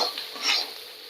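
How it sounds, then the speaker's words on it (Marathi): Fresh cashews sautéed in hot oil, a soft hissing sizzle with a brief scraping stir in the middle, close and fairly quiet, with no voices. "हे पहा मस्त असं परतून एक दोन तीन मिनटे काजू आपण परतून घेणार आहोत"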